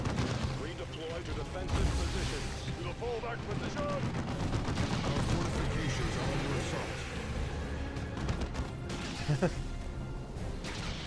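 Muffled, continuous turret fire from the tarantula turret in the video game Dawn of War 2 rumbles in a dense battle din with scattered impacts and crashes, and voices talk over it throughout.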